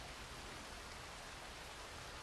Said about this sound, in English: Tell me how it's raining on the other side of the map and it's raining here.